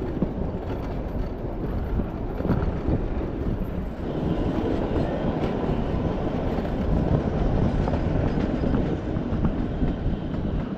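The Kalka–Shimla narrow-gauge toy train running through the hills, a steady loud rumble and rattle of carriages heard from on board, continuous for the whole stretch.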